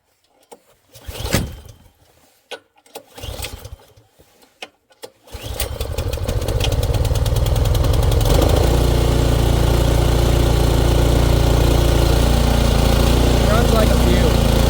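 After a few quiet handling noises and some talk, a Troy-Bilt snow blower catches on a pull start at full throttle and settles into a loud, continuous, steady engine roar close by.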